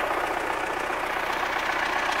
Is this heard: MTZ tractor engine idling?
yes